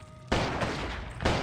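Rapid gunfire from a retro-style shooting video game plays after a brief quiet lead-in, two dense loud bursts filling most of the clip with a short dip between them.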